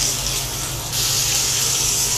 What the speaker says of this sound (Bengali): সামান্য পানি দিয়ে দিলাম